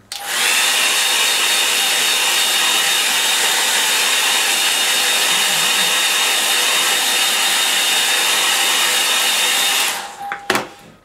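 A hair dryer blows loudly and steadily for about ten seconds while drying a watercolour woodland painting, then switches off with a few clunks.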